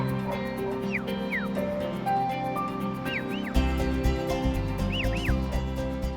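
Sheep bleating across the open hills of the Lake District, several wavering calls repeating at a moderate distance over a steady outdoor background with a louder rumble joining midway.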